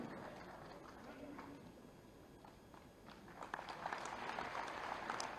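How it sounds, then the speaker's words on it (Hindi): A crowd claps steadily for people called onto the stage at a live public event with Chief Minister Yogi Adityanath, the dense applause holding throughout and swelling louder in the final seconds, with a voice faintly mixed in. "जोरदार तालियां बजाएं"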